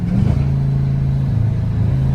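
A BMW M8 Competition accelerating hard, its engine droning loud and steady from start to finish with a faint turbo whistle riding over the mechanical roar.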